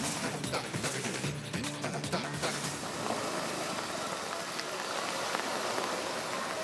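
Heavy coastal rain in Karwar pours down in a steady, dense hiss, with a dog barking briefly near the start.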